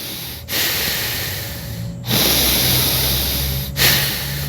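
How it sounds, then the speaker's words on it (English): Loud, close breaths rush in and out through the nose in a slow, steady rhythm, each a broad airy hiss. "balanced nasal breathing is exactly what it sounds like. So mouth closed."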